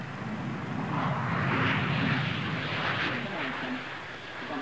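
A Rolls-Royce powered Westland Aerospatiale Lynx helicopter gives off a loud, steady turbine roar with rumbling rotor wash that swells slightly in the middle and holds for the whole stretch.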